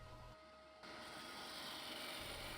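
Scraping a wood-turned piece on a lathe, a steady broadband rasping hiss that starts after a brief pause and continues evenly, with no talk.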